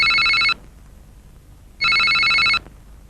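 A mobile phone's electronic ringtone plays in a Kannada action thriller movie, two loud bright bursts separated by a pause of about a second, with no voices over it.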